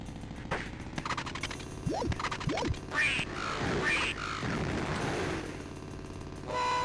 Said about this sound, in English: 2 minutes to blast as many ducks as you can.